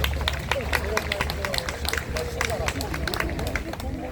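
Crowd applause rings out at an outdoor rally in Incheon urging the transfer of the metropolitan landfill, dense scattered clapping sustained throughout with background crowd murmur and some voices mixed in.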